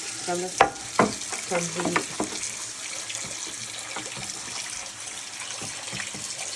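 Very hot tap water runs into a dirty cast iron pan that held a cooked steak, giving a hissing, sizzling rush broken by a few sharp clanks and knocks at the start.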